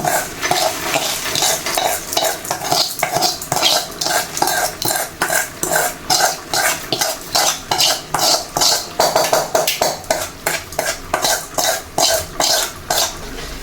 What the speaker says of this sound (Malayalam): ഇതിനകത്ത് ഇട്ടിട്ടുണ്ട് അതൊന്നുകൂടെ ഇളക്കണം ഇളക്കി കൊടുക്കണം